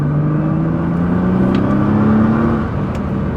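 An R35 Nissan GTR accelerates hard nearby, its steady engine drone holding loud and continuous with a slowly rising tone throughout.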